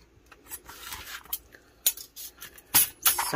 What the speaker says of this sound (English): I'm gonna grab my X-Acto knife and just cut